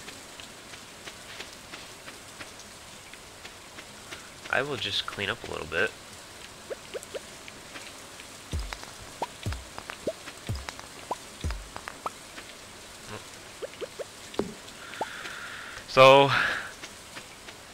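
Steady soft rain patters across the farm in Stardew Valley, a continuous light hiss that runs beneath someone talking, with a few brief game clicks and chimes popping up over it.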